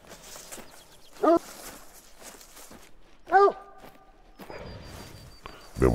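A hunting dog in theHunter: Call of the Wild gives three short, tonal yelping barks spaced a couple of seconds apart. They sound fairly close over soft rustling and footsteps, and the last one is the loudest.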